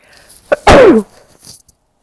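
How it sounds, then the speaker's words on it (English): A single sharp sneeze bursts out close up, preceded by a quick intake of breath, then quiet. "I had to sneeze."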